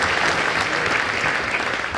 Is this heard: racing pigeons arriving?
no